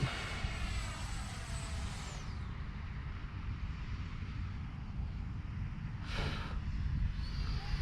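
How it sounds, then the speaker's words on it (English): An Arrows RC Marlin 64mm electric ducted-fan model jet flies overhead, a steady high whine and airy rush that dips in pitch as it passes, with another brief surge of roar a few seconds later. "Oh, I love the Marlin. Just a great flying little jet."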